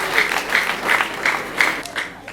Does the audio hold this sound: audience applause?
yes